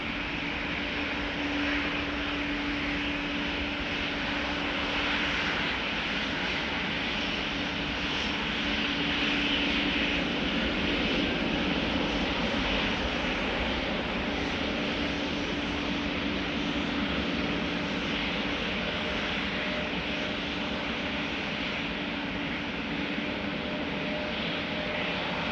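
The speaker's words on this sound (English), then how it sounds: "Next up should be KLM flight 1313, which is going to Warsaw in Poland." KLM Boeing 737-700 on departure from Amsterdam Schiphol, bound for Warsaw, with a loud, steady jet engine roar that holds for about twenty-five seconds and never fades.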